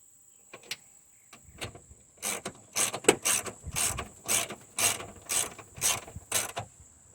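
The window regulator on a Mustang driver's door is cranked by hand, its gear mechanism giving a series of rhythmic ratcheting, grinding pulses close by, about a dozen strokes over several seconds against a quiet background.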